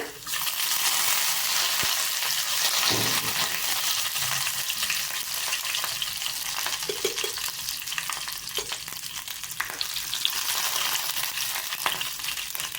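Chopped garlic and curry leaves crackle and spit in a mustard seed and urad dal tempering, a bright continuous frying hiss with scattered pops and occasional stirring clatter, close by.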